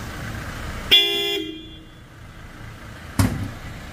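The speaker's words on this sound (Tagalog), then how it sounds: "nilagay natin siya ng supersonic horn. Ito yung malakas nating busina." A supersonic horn fitted to a Toyota Fortuner LTD gives one loud, sharp, bright honk lasting about half a second, followed by a short, lower tone and, after a quiet stretch, a second brief burst.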